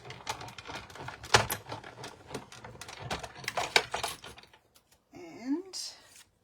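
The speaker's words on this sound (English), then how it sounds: "So I'm just going to run that through my stamp and cut and emboss machine" A stamp, cut and emboss machine pressing a foil ornament topper gives a fast, close run of ratcheting clicks for several seconds, then a pause and a brief grinding sweep.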